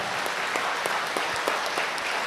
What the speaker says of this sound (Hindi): एक बार जोर से ताली बजा के प्रभु को धन्यवाद दो ना